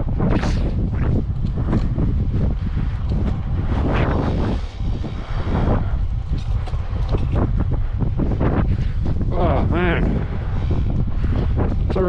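Heavy, constant wind roars and buffets the microphone while cycling on a Giant TCR Advanced Pro road bike in winter, a dense rumbling rush with brief gusts, while a voice speaks intermittently beneath it.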